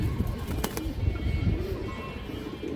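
Pigeons coo softly in a loft of flying pigeons, with a steady low murmur of birds close by and a brief rustle partway through.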